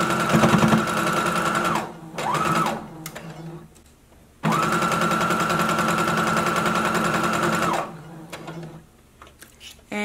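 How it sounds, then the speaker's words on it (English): A sewing machine stitches around the pocket of a high-low faux wrap skirt: two long steady runs of close, loud motor whir and needle clatter, with a short burst and quiet pauses between them. "you can get the pocket back lined up with 5/8 of an inch seam allowance and continue"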